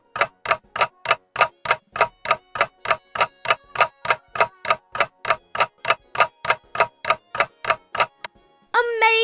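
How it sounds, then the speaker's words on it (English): A clock ticks in an even, crisp rhythm, about three sharp ticks per second, close and clear with nothing else behind it, stopping just before the end. "That sound was the clock making a tick-tock sound."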